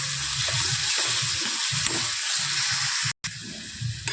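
Onion and tomato sautéing in a pan with salt for a vegetable dish, producing a constant soft sizzle with low scraping and stirring beneath it, broken by a brief gap near the end.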